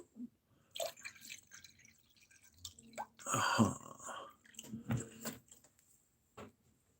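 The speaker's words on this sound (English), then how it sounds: "I'm about to pour some water as well. So if you hear a water moving noise, that's what it is." Water is poured into a cup, giving intermittent splashing and trickling bursts with drips and a fuller pour midway, close and fairly quiet with gaps of silence.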